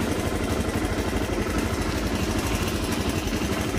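A motorcycle engine idles steadily after starting, a continuous close mechanical chug with rapid regular pulses throughout and no talk.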